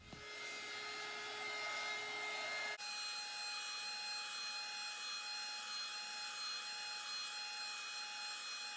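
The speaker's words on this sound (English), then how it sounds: "next I'm going to start up my heat gun and hit it with that" A heat gun runs steadily throughout, drying poured acrylic paint, a loud continuous blowing whine with a whistling tone that shifts in pitch once the speed is switched, with no talking.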